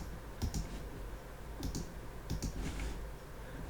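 A computer mouse clicks in small clusters while dragging on screen during camera animation work in software, with faint, close, crisp clicks spaced irregularly over quiet room tone.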